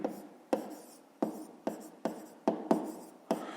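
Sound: pen writing on paper

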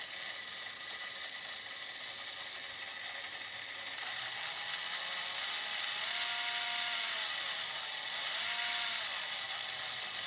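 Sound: voltage stabilizer squealing under load

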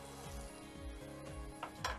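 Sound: butter melting and sizzling in frying pan with oil

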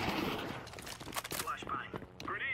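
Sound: gunfire in video game CS2

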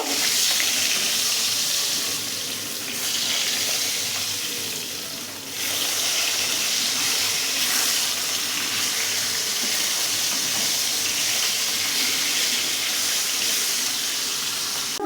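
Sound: fish frying in a pan

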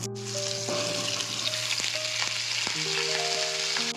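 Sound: potatoes frying in hot oil in a wok

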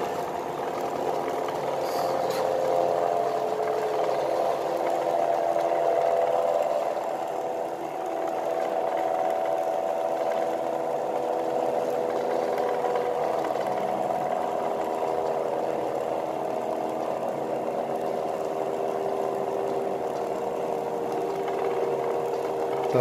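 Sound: powerful axial and radial flux BLDC motor running at speed

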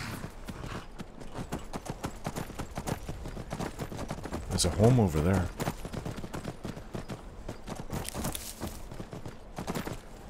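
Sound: horse hooves clip-clopping while riding, from a video game

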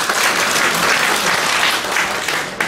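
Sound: applause at an award ceremony

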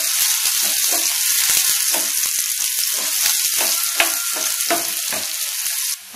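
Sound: shallots frying and being stirred in oil

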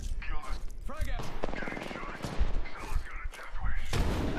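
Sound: grenade explosion and gunfire in video game

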